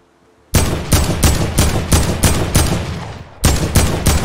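Loud rapid bursts of gunfire from the video game Fortnite, about eight close, evenly spaced volleys with a short gap before a final burst, and no talking.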